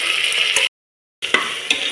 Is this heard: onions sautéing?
yes